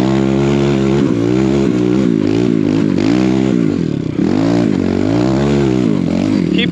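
A four-stroke snow enduro motorcycle engine revs hard while riding through fresh, fluffy overnight snow, its loud harmonic drone rising and falling in repeated surges across the whole stretch, close and continuous.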